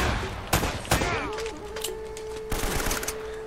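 Gunfire from the video game Uncharted: Drake's Fortune, a few sharp shotgun-like blasts spaced across a few seconds, with a tonal game effect lingering between them.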